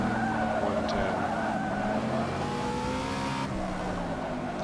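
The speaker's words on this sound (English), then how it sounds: "hear all the squealing of tires" Racing cars in a Le Mans video game with a Bugatti, steady engine roar with sustained tire squeal layered over it, continuous and fairly loud, no talk.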